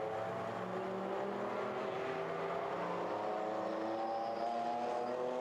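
A GT race car drives through the final corner at Zhuhai, its engine a steady droning whine with shifting pitch, heard at moderate distance and fairly faint, with no voices.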